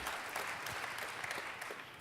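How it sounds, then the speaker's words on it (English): Audience applause at a panel event, a steady dense wash of many hands clapping at moderate distance, fairly even throughout with no voices on top. "Round of applause, ladies and gentlemen"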